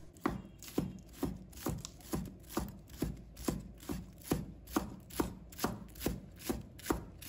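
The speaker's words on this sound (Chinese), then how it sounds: "接下来我们准备1把小葱，把它切成葱花。" A knife chops a bunch of scallions on a cutting board into a steady, even run of about fifteen crisp, close knocks, with nobody talking.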